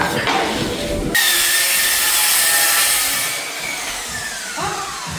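A laminate flooring board being cut by hand during floor fitting, a steady rasping saw stroke that runs continuously through the clip, close and fairly loud, with no talking.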